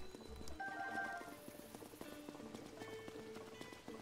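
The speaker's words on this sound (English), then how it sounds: "We'll get a horse and continue on our way." Horse hooves clip-clop at a gallop in the video game Zelda: Tears of the Kingdom, a steady rhythmic beat heard over game music and ambient sound, with a brief whinny-like cue near the start.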